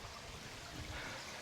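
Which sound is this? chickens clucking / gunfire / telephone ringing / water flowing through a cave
water flowing through a cave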